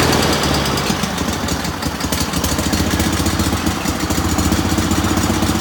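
An engine runs loud and close at a rough, steady idle, its rhythmic chugging and knocking continuing without a break and with no talking.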